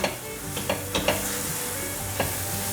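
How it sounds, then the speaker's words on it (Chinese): Seasonings including rose salt, white pepper and sugar are tossed with mushrooms in a wok, bringing sharp spatula clacks and scrapes over a steady sizzle, close and distinct, with no voices. "把所有调味料炒匀。"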